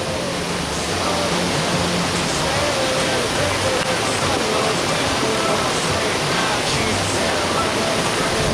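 Running water at a minigolf course makes a steady, broadband rushing like a small waterfall. It stays constant and fairly loud and masks other sounds.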